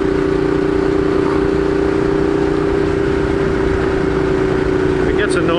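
A motorcycle engine running rough and stuttery hums steadily and close throughout, a continuous mid-pitched drone with no clear revving.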